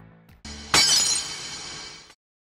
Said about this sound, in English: Only to hear the sound of the jewel breaking before him.